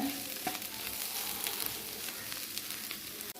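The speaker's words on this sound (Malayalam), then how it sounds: "ഞാൻ ലോ ഫ്ലെയിമിലിട്ടാണ് ഇങ്ങനെ വഴറ്റി വഴറ്റി എടുക്കുന്നത്" A soybean and potato stir-fry with curry leaves sautés over a low flame, giving a soft, steady sizzle and crackle with occasional faint scrapes of stirring. No one speaks.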